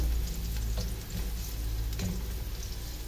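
Garlic and onion sizzle steadily in hot oil for pork intestine adobo, making a continuous close frying hiss with a few light stirring scrapes.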